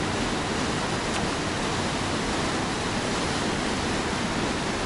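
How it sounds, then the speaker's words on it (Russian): A waterfall near Sochi roars as a broad, constant rush of falling water, loud and close with no break across the whole stretch. "И прям подходим, прям все ближе, ближе к водопаду."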